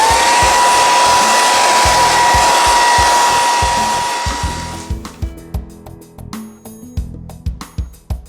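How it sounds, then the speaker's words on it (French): A hair dryer blows steadily on acrylic craft paint on small children's furniture, a loud constant whooshing whine that runs for several seconds, then cuts off and leaves a series of quieter knocks and taps. "vous pouvez tout à fait accélérer le temps de séchage avec un séchoir à cheveux"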